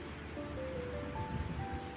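Steady wash of waves from a passing boat lapping against the shore, a constant low rolling surge with faint tonal hums in the background.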